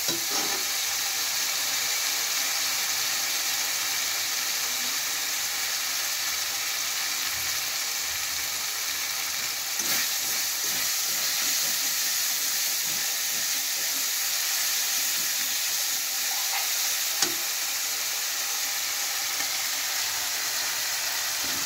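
Curry masala for an egg and potato curry frying in oil, a continuous close hiss and sizzle with occasional faint stirring clicks, unbroken throughout.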